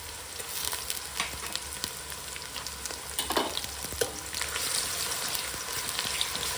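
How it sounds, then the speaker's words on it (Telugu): Cumin, green chilli, onion and ginger paste fry in oil for a chicken curry, making a constant close sizzle with a few stirring scrapes and no talking. "అల్లం అనేది నూనెలో బాగా కొంచెం రెడ్ కలర్ వచ్చిందాక వేయించాలి"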